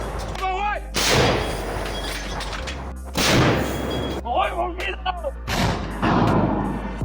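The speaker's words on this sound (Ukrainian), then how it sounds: "Постріл!" Heavy booming blasts from a captured Nona self-propelled mortar-artillery gun, three or four loud shots with long rumbling tails, and people shout and talk between them.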